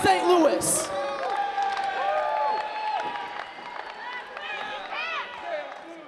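A wrestling show crowd in a Kansas City venue during an I-70 Series match cheers and whoops steadily, with scattered applause and shouting voices layered throughout, loud and sustained from start to finish.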